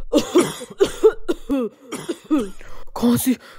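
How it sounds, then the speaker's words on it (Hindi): A series of harsh coughs in quick succession, loud and close, with strained breathing between them. "वो जोर जोर से खांसने लगा और उसे सांस लेने में तकलीफ होने लगी।"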